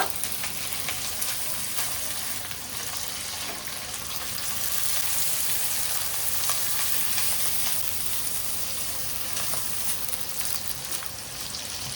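Beef sizzles steadily in hot oil while frying for mi goreng daging, a dense, continuous crackle that stays fairly loud and even throughout, with no voices over it.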